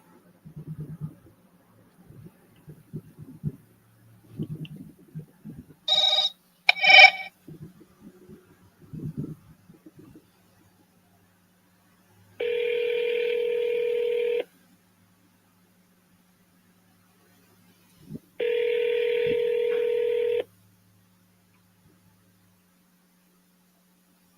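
A phone call is placed before it goes to voicemail. A quick burst of dialing tones is followed by two long ringback tones with a pause between them, clear over faint tapping and room noise.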